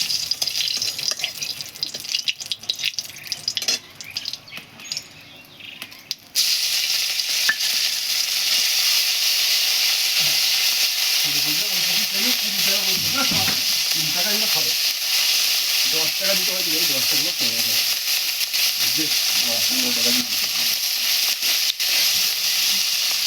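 Dried red chillies dropped into hot oil for tempering, bursting into a loud, continuous hiss and sizzle after a quieter opening, with voices talking faintly over it in a home kitchen.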